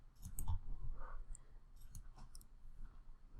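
A computer mouse clicks a few times at close range, sharp small ticks spread over a few seconds in a quiet room, with no talking.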